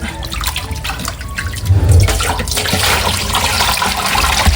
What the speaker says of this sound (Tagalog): Buti naman po at bumilis po ang tulo po na ang tubig